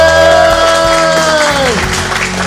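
A small group claps for Marilyn during a gathering on a French farm dating show. The clapping is steady and close, mixed with voices and sustained tonal sounds that fade out near the end.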